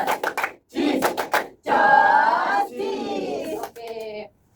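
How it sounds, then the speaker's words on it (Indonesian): A classroom of students performing the 'tepuk justice' clapping chant, rhythmic hand claps followed by voices chanting together in short bursts, close and moderately loud, with a teacher's voice leading. "maka kita beri tepuk justice"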